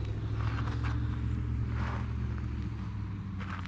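Car driving along the road to the Flight 93 National Memorial, a steady low engine and tyre rumble heard from inside the vehicle, with faint wind noise.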